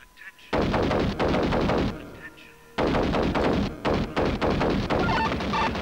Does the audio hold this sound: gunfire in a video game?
yes